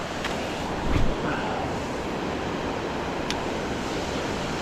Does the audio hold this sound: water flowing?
yes